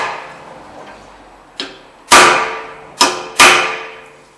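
A hammer strikes a steel drift punch during brake work on a 2005 Honda: four sharp metallic hits, with the first lighter and the others loud. They come at irregular intervals, ring briefly and are heard close up with no talk.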